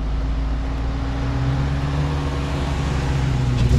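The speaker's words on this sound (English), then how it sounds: "I really bought it just so I could hear that Hemi." A car with a Hemi engine idles steadily nearby, giving a constant low rumble with a faint tonal hum throughout. No voices can be heard.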